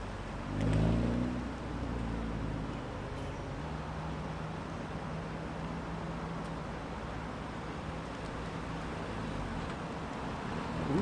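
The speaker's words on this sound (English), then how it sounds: "Let me give it some gas." A manual transmission car pulls away with a short engine rev early on, then settles into a steady, moderately quiet engine and road drone.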